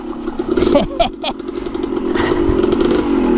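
A motorcycle engine fitted with a Lectron carburetor revs and holds a steady throttle up close, with a rumbling low drone and some clattery bursts partway through.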